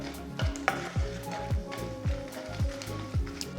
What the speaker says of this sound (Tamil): ஃப்ளேம் நீங்கள் மீடியம் லோலேயே வச்சு நீங்கள் வறுத்துக்கோங்க